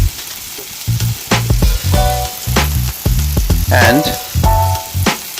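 Vegetables fry and sizzle in a pan for dal mastani while a spoon stirs them in repeated scraping bursts over a continuous hiss, and a voice briefly speaks.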